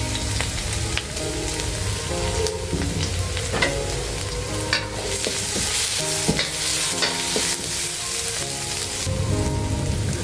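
Onions frying in hot oil for a Sri Lankan pork curry sizzle loudly and continuously, with a spoon stirring and scraping the pan at intervals throughout.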